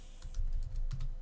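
Fast typing on a computer keyboard, a dense run of close, crisp key clicks with a brief pause in the middle, heard alone with no talking.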